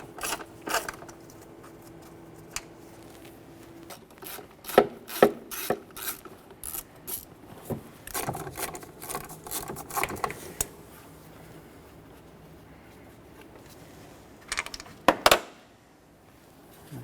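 A ratchet works 5.5mm bolts out of plastic threads on the heater blower motor of a 2003-2021 Chevy Express 3500 van, with irregular clicking, scraping and rattling taps close by.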